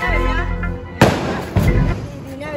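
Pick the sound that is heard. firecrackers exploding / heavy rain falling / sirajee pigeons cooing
firecrackers exploding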